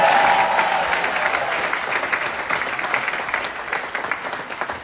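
An audience at a comedy performance at the Casino de Paris applauds with dense, steady clapping that gradually thins and softens toward the end.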